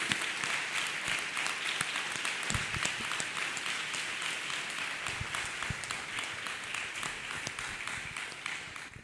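A church congregation claps hands together during a testimony service, a dense, continuous patter of applause throughout with scattered sharper claps.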